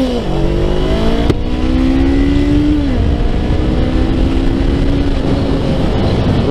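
A Honda CBR500R sport motorcycle engine revs up with a steady rising whine, holding high and then dropping back, close and loud with no talking.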